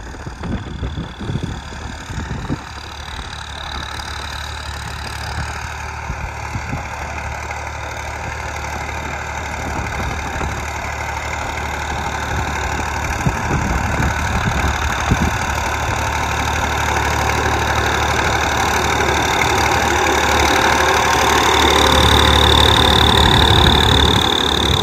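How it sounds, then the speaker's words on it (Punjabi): A tractor on 13-size tyres runs steadily in first high gear while preparing a field for maize planting. Its engine gives a continuous, close, loud drone that builds slightly over time. "ਟਰੈਕਟਰ ਇਸ ਟਾਈਮ ਪਹਿਲੇ ਹਾਈ ਦੇ ਗੇਅਰ 'ਚ ਆ ਜੀ ਅਤੇ 13 ਦੇ ਟਾਇਰ ਹੋਣ ਕਰਕੇ ਤੋਰਾ ਵੱਧ ਆ ਜੀ"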